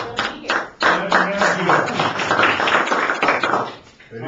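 A small audience at a state agriculture board meeting claps for a few seconds, distinct close hand claps starting sharply and then fading, with some voices underneath.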